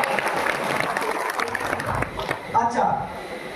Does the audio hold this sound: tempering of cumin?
no